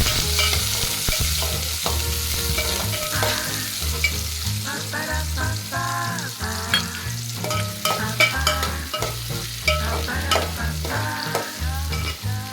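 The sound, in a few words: onion and curry leaves sautéing in oil with fennel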